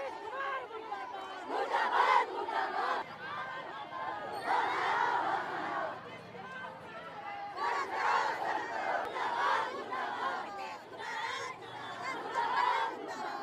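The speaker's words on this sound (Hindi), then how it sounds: "देख सकते हैं यहाँ पे किस तरीके से भीड़ जुटी हुई है" A crowd of Bhim Army and Azad Samaj Party protesters stopped at Gardani Bagh shouts slogans in loud surging waves, voices rising and falling together over constant chatter.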